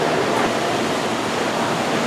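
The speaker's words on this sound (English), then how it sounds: "This tank is representative of the surge zone. The waves crashing." Steady, close broadband rush of churning water fills an aquarium surge zone tank stocked with seaweed, starfish and fish, as waves crash continuously without distinct breaks.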